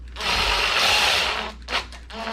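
A power drill drives screws into a Kwikset SmartKey deadbolt in a new door hole, whirring steadily for over a second, then stopping, followed by a short burst and a lower trailing spin, close and loud.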